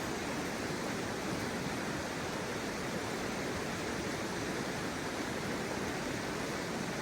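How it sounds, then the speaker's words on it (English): Indian Falls on the Indian River pours in a steady, dense roar of rushing water, constant and unbroken from start to finish, with no voices. "that is Indian Falls waterfall right there"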